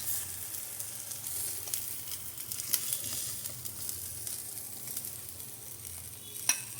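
Fish pieces frying in oil, a soft continuous sizzle and hiss with occasional pops, fairly quiet and steady with no voices.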